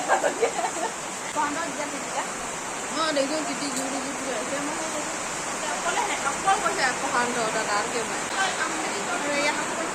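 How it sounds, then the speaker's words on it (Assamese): Heavy rain falls in a thunderstorm, a constant close hiss and rush that fills the scene, while voices talk intermittently underneath. "ইমান বৰষুণ দিছে আৰু জোৰে জোৰে ঢেৰেকণিও মাৰিছে"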